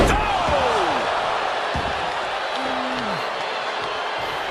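Body slam impact in the WWE 2K26 video game during a CM Punk vs JBL match: a sharp thud over a constant roaring arena crowd, with whooshing swept effects and a second thump partway through.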